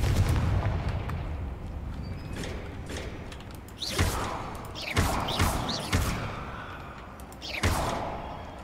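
Confringo fire spell blasts in the Hogwarts Legacy video game, a series of sharp booming explosions with crackling tails that recur every second or so over a dense, rumbling game soundscape.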